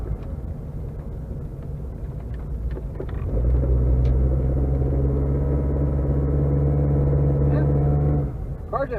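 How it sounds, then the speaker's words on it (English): A car on a test drive rumbles along at close range, a low steady engine and road drone that deepens and strengthens midway before easing near the end. "Car's actually doing really well."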